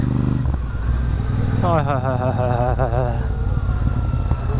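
A motorcycle engine drones steadily at close range on a highway near Kalanaur, Punjab, with road and wind rumble, its pitch wavering briefly as the rider shifts speed.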